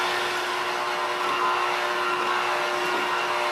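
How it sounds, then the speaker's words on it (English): An electric mixer beating white shortening in a large bowl, a steady mid-loud motor whine with a constant hum, running evenly throughout without talk. "We're going to combine that with the electric mixer."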